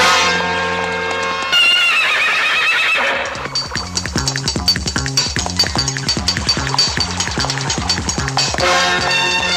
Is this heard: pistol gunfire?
no